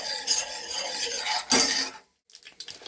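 Urad dal frying in a pan for Telugu dal fry, with a metal spoon scraping and clinking against the pan in quick close strokes, then a brief pause before softer stirring resumes.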